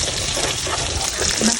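Flour being dry-roasted and stirred in a pan for Nepali dhido, a steady close sizzling and scraping hiss that runs without a break and swells slightly near the end.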